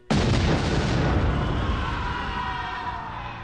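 A bomb explosion in a scene from the Telugu action film Astram hits with a sudden loud blast, then fades into a long rumbling roar over about three seconds.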